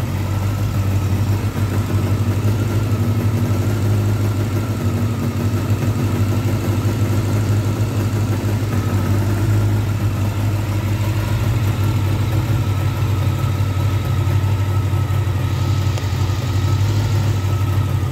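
A Honda Nighthawk parts-bike motorcycle engine idles steadily, choke off and idle turned up a little, with a low, even rumble that holds constant throughout, with no revving or other sounds.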